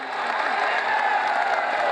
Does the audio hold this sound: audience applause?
yes